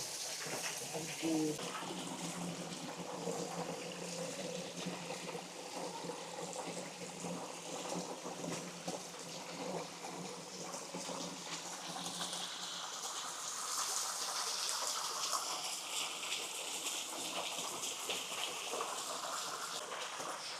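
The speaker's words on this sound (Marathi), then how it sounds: "हे पाणी हा झरा पूर्ण वरतून येत आहे डोंगरावरून" A mountain stream falls from the hillside at the Shukacharya temple site, giving a steady, rushing hiss of running water that carries on without a break.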